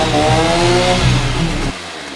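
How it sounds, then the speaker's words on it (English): A chainsaw runs loud and close with a smoky, steady engine drone, used while rebuilding a wrecked 2019 Ram 2500, then cuts off abruptly near the end. "that chainsaw was a little smoky"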